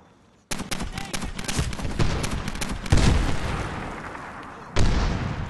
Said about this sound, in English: We're being sniped!